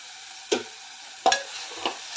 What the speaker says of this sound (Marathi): बटाटा घालून चांगलं परतून घेते